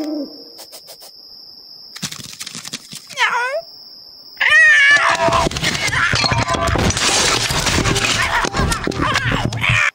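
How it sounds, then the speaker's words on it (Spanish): A cat meows with a rising, wavering cry amid clattering and a loud burst of mixed noise, with a steady tone and background sounds around it. "¡Miau!"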